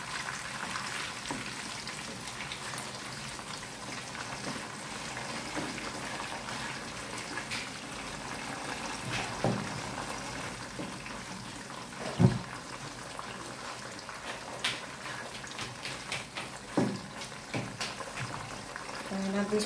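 Taro chips frying in hot oil in a home kitchen, a steady broadband sizzle and bubble running throughout with occasional clinks of a utensil, while a person talks over it.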